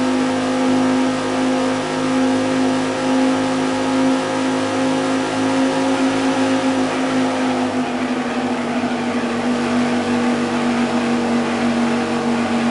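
A racing car engine from the 1998 video game Viper Racing roars in a steady, loud sustained drone with slight pitch shifts, the throttle held on through a race with no braking.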